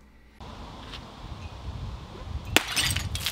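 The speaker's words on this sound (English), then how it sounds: "We exploded the Prince Rupert's drop and the drinking glass both." A Prince Rupert's drop bursts underwater together with a small drinking glass, giving one sharp, loud shattering crack followed by brief tinkling and bubbling over faint outdoor wind noise.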